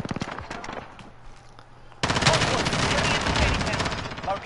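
Rapid machine gun fire in Call of Duty, starting abruptly and running as a loud, dense, continuous burst after a quieter stretch of scattered shots and background game noise.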